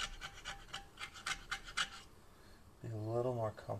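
Metal scraper rasping across a 1995 Jeep Cherokee XJ replacement cylinder head during cleanup, a run of short rhythmic scrape strokes up close, followed by a voice speaking.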